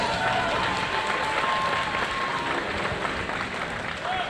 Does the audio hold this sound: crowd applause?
yes